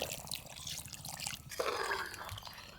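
Water splashes and trickles into a pot of village-style chicken curry with ground masala and rock salt, a short liquid pour with a wetter, fuller gush midway, close and fairly quiet.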